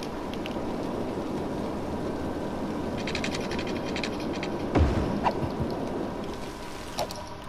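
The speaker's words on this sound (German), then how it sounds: "Ich mach mal kurz den Regen aus." Steady rain falls in the city-building game Cities: Skylines, a constant broadband wash with a brief low rumble and a few faint clicks partway through, and no voices.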